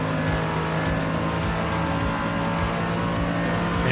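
Race cars in a racing video game running side by side toward Eau Rouge, a steady loud engine drone with layered whining tones throughout, no gaps or talk.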